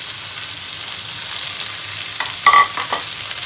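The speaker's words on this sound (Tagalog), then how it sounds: "So, gisa-gisa ulit po ang ating kamatis" Tomato sautés in a pan with a steady broad sizzle throughout, followed by a brief burst of stirring clatter near the end; no voices.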